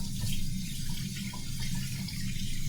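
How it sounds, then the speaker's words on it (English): Warm tap water runs steadily into a sink as hands are washed with soap in a kitchen, a constant close splashing flow with no talking. "I'm going to obviously immediately wash my hands with soap and water."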